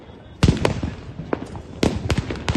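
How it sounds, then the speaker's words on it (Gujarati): Diwali firecrackers and sky shot fireworks burst in a cluster of sharp, loud bangs, two near the start and several more later, over a rumble of distant pops. "પેલી બાજુ પણ ફટાકડા ફૂટે છે અહીંયા પણ ફટાકડા અમે ફોડીએ છીએ"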